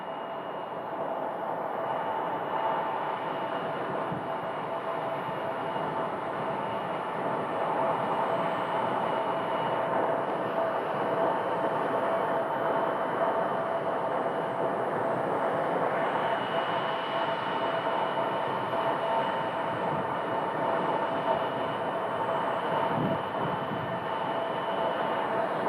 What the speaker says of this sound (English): there you can hear the sound of the CRJ starting up